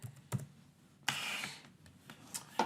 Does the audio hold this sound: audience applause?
no